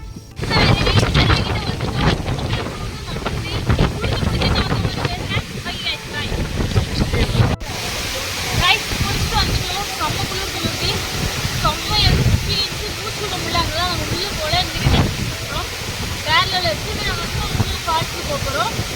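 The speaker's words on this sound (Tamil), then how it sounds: "இங்கே தான் வந்து அந்த அருவி இருக்குது." The Kolli Hills waterfall roars as a steady broadband rush of falling water close by, mixed with wind buffeting the microphone, while people talk over it.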